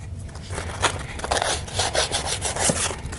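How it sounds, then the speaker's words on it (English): Fine 600 grit sandpaper rubs back and forth over the scarred metal shaft of a StairMaster 4000 stepper, making a steady, close, raspy scraping in uneven strokes, with no voices. "I'll come back with a 600 grit polishing kind of sandpaper"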